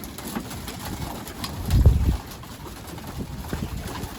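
Domestic pigeons in a loft give a low, throaty cooing that swells briefly near the middle, with softer coos scattered through a steady background hiss and no talking.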